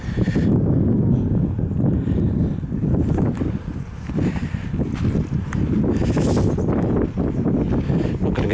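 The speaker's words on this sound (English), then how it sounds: "And it's a bit windy as well." Strong wind buffets the microphone outdoors on soggy ground at a castle site, producing a loud, constant low roar with gusting swells and faint rustling throughout.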